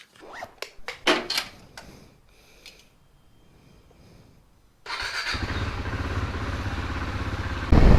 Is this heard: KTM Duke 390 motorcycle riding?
yes